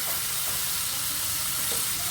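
Vegetables sizzle and fry in a pan for a vegetable pasta, a steady, close crackling hiss with no talk over it.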